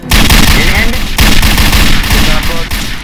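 Rapid gunfire in a Garry's Mod DarkRP game, loud close bursts of automatic shots firing in a dense rattling stream with brief breaks, voices in the clip beneath the shooting.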